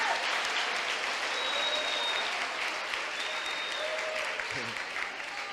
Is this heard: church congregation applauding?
yes